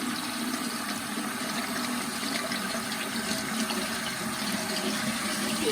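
Rice rinsed in a strainer under running water, a steady full rush of tap water splashing through the grains, close and constant throughout with no speech.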